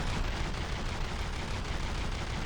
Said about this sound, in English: It's currently coming under fire of probably almost all the weapon systems on the ship.